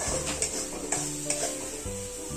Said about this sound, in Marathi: तेल सुटेपर्यंत हा मसाला चांगला परतून घ्यायचा